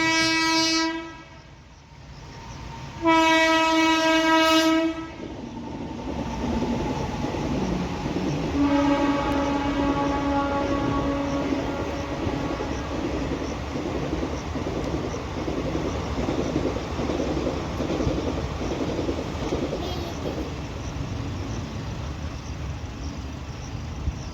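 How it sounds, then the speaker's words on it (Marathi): A freight train passes a railway gate near Aswali station, sounding a few loud horn blasts before a long, steady clatter of wagons rolling by close at hand. "अजून एक आता तिसरी ट्रेन आली बघा"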